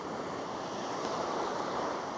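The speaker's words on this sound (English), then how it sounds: "Big waves there, man." Big ocean surf breaks and rushes in a continuous loud roar, with wind buffeting the microphone throughout and no speech.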